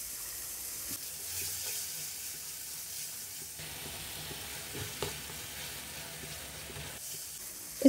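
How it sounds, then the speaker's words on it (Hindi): Steady sizzling of masala frying for egg curry, with a splash of water poured in and faint stirring, close and continuous, with a few clinks near the end. "हम थोड़ा सा पानी डालेंगे ताकि मसाला अच्छे से भुना जा सके।"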